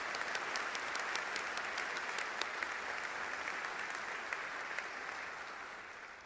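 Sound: applause

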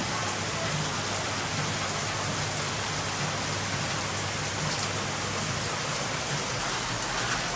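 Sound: heavy rain falling outside

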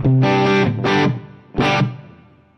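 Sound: distorted electric guitar amp with plate reverb

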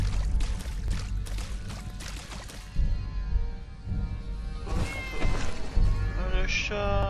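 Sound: cat meowing in the video game Fallout 4

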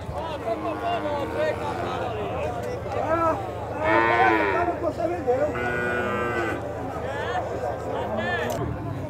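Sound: cattle mooing at a cattle fair

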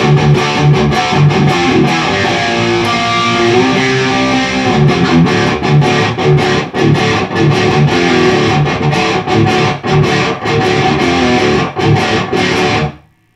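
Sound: guitar through Joyo Dark Flame distortion pedal

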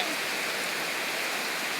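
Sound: rain falling

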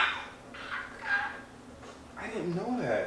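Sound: voice imitating a woodpecker

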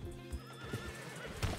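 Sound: horse neighing in a video game (Calico RP)

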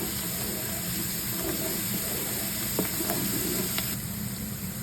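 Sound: ginger garlic paste frying and being stirred with onions

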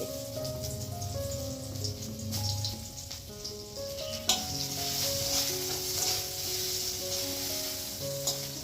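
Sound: frying dal tempering and soybean potato curry in two woks

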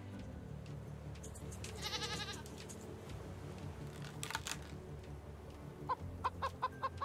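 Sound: chickens clucking in the video game Raft

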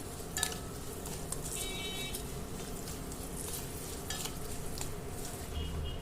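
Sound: frying roasted gram and raisins in pan, low flame

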